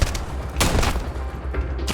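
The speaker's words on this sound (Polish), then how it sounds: "Jeszcze jakie eksplozje bez przerwy." Explosions and gunfire in the video game Starfield, with dense rolling booms and rapid shots filling the clip loudly and without pause.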